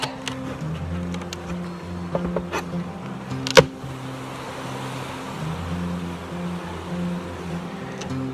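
Honeybees hum in a steady low drone close by at an opened hive during honey super removal, with a few sharp clicks and knocks partway through.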